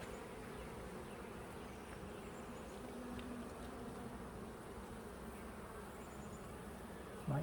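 A dense, steady drone of many honeybees buzzing close by during a hive inspection, continuous and even throughout with no talking.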